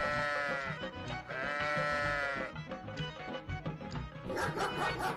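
A lamb bleats loudly up close in two drawn-out, wavering cries, followed by a shorter, brighter call at the end.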